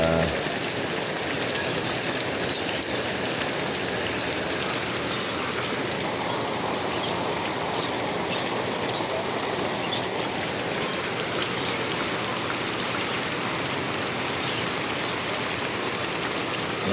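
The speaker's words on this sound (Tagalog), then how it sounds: "biglang buhos na naman siya." Heavy rain pours down steadily and loudly for the whole stretch, a dense, unbroken hiss of water beating on surfaces close by, with no voices.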